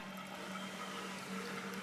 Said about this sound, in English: There's a steady trickle of water in a greenhouse in Cleburne, Texas